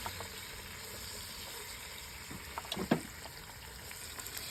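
Onions with salt and green chillies fry in a pot for mutton biryani outdoors in a backyard, giving a faint, steady sizzle with a few soft stirring clinks partway through; no voices.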